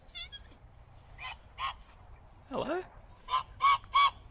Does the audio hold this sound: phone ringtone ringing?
no